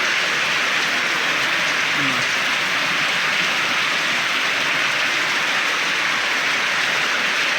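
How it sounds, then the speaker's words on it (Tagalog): Heavy rain pours down in a steady, dense hiss that never lets up, loud and enveloping, with faint voices barely audible beneath it. "ang lakas ng ulan dito sa amin"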